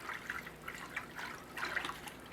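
Alpaca manure leach liquid poured into a bucket, a faint, uneven trickling and splashing stream with small spurts, quiet and close.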